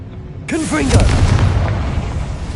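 A Confringo blasting spell in Hogwarts Legacy: a voice shouts the spell, and a heavy booming explosion bursts right after and rumbles on, loud and close, to the end.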